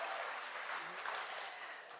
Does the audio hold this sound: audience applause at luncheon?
yes